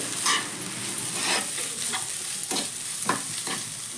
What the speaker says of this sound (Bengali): এবার ভালোভাবে পেঁয়াজের সঙ্গে আমি মিশিয়ে নেব আলুটা